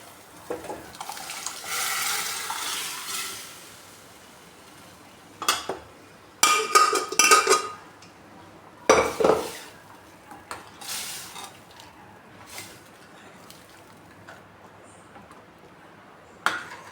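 Mixed dal being poured into a cooking pot and stirred, with clattering utensil and metal pot knocks, a few sharp scrapes and clinks in bursts separated by quieter gaps, close by and with no talking.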